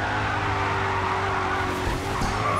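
Racing cars skid with sustained tire squeal over steady engine roar in the racing video game GRID 2, loud and continuous throughout with no talking.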